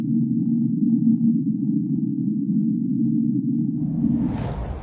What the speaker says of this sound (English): Sped up 16 times, the sound has an almost wind-like quality, despite having been recorded deep underwater